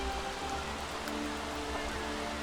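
Steady rain falling in The Sims 3, a constant soft hiss of drops with a low rumbling undertone, even and unbroken throughout.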